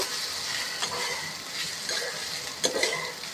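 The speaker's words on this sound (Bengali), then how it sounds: "এবার ভালো করে নাড়াচাড়া করে নেব।" Flattened rice coated with turmeric and salt being stirred as it fries in mustard oil, a soft steady sizzle with brief spoon scrapes and a light clink near the end.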